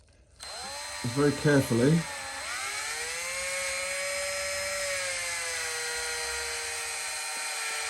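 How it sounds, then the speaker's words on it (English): A drill spins a motorcycle valve during valve lapping, a steady high motor whine that rises and holds close by, with someone talking briefly over its start. "When I do this, I'm going to stick this in a drill."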